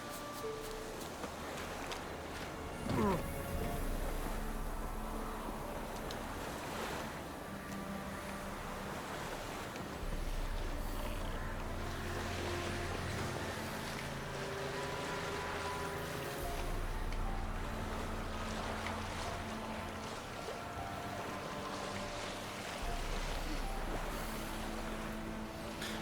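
A boat sailing across open sea in The Witcher 3, with steady washing waves and wind around the hull, low periodic swells, and game music tones layered on top, moderately loud and unbroken.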